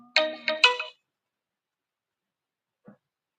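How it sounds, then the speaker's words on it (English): A phone ringtone chimes in a short burst of bright melodic tones near the mic, then falls silent, with one faint tone returning a couple of seconds later. "Hopefully, it doesn't keep ringing. I'm going to have to take this call."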